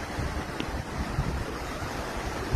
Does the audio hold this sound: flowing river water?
yes